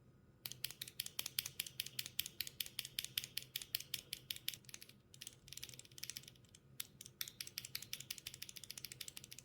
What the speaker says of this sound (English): It comes with EPOMAKER clear magnetic switches and here's how they sound.